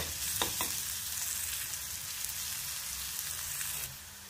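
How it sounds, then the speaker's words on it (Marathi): Crushed ginger and garlic frying in a pan for bombil bhurji, a dense, even sizzle that crackles steadily for several seconds with a couple of light stirring knocks, close and alone before it eases off. "जोपर्यंत आला लसणीचा कच्चा वास जात नाही तोपर्यंत आपण ते मस्त फ्राय करून घेऊया."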